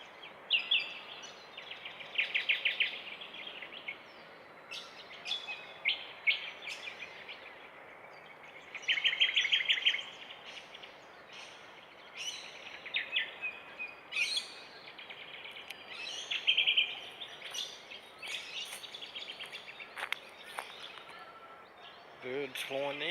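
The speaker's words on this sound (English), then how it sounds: "birds flying now." Birds call and chirp in bursts during an early-morning walk by a river, scattered twittering phrases rising and falling over a quiet background, with a rustling, clattering handling noise at the very end.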